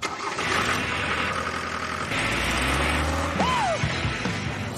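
A car engine cranks and catches, then settles into a low idle, with a brief rising whine and some rattling close by; no one speaks.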